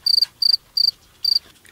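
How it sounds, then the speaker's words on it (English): Cricket chirping sound effect, four quick pulsed trills in steady rhythm, bright and clear, alone with no voices. "Crickets."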